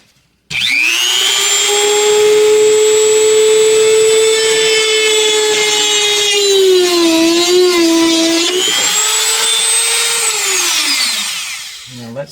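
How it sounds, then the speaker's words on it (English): A power drill whines steadily and loudly for about ten seconds while drilling into wood, its pitch dipping briefly under load mid-run before rising again and winding down. "Now I'm going to try to drill a hole where I want it to go."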